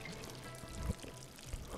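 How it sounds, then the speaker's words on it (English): In Project Zomboid, rice is tipped out of a saucepan onto the ground, giving a faint, short, soft pouring rustle over low background noise. "Let's actually go saucepan with rice, pour on the ground."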